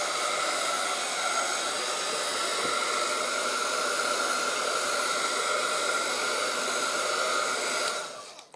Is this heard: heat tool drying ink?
yes